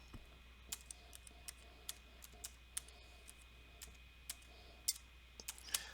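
Quiet, crisp clicks of a computer keyboard as a search is typed, arriving in irregular taps spaced through a faint, hushed room with no talk.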